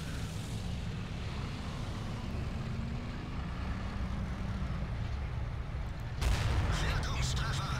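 A tank cannon fires gold ammunition in World of Tanks, one heavy booming shot near the end after a long stretch of rumbling engine and battle ambience, with a voice talking beneath.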